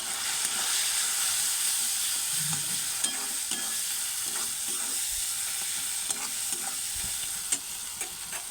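Spice paste with salt, chilli powder, turmeric and a splash of water frying in a pan, a constant close hiss and sizzle broken by repeated light spatula scrapes and taps, no one speaking.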